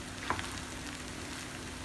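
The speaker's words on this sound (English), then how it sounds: "I don't know if you could hear it sizzle." Shrimp fried rice with hot sauce sizzling steadily in a single pan, a soft continuous frying hiss with one brief stir or clink.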